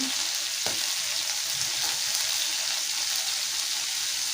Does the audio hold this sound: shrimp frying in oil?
yes